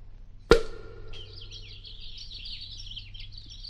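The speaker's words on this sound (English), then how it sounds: "These nightingale's tongues aren't well seasoned at all. They're still chirping." A cork pops from a bottle, then a comic sound effect of nightingales chirping inside the bottle follows as a continuous warbling twitter, steady and fairly quiet with no talking.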